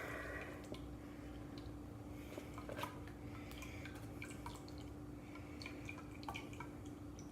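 Vegetable glycerine CBD tincture drips slowly through a filter bag. The drops are soft and scattered, with faint irregular plinks over a quiet, steady background hum.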